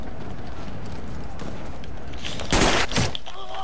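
Gunfire in a WW2 video game during a fight over a port control point: a couple of loud, sharp bursts late in the clip over steady battlefield noise.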